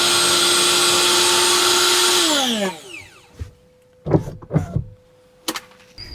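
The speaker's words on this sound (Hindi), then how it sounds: "हमारा मिक्सर स्टार्ट हो गया" A kitchen mixer grinder in a camper built on a Force Gurkha whirs loudly and steadily, then winds down to a stop, followed by a few clattering knocks and handling sounds.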